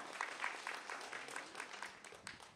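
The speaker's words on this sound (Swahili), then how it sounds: "Tumpigie makofi Dr. Samia tafadhali" A crowd at an outdoor political rally applauds Dr. Samia with a dense, continuous patter of clapping that sounds faint and distant throughout.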